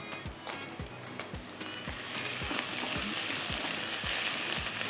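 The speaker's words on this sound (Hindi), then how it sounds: "थोड़ा सा इसको भी फ्राई करते हैं मसाले के साथ, ज़रा सा एक अच्छा सा इसका टेस्ट आ जाएगा अदरक लहसुन के साथ" Masala sizzles steadily with ginger and garlic in a karahi, a continuous close frying hiss with soft regular taps of stirring, no voices.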